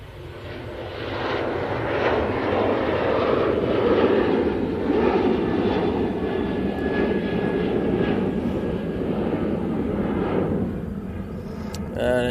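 Ryanair jet airliner on its takeoff roll at Manchester Airport, a steady loud engine roar building and holding throughout, broadband and rumbling, with no talk over it.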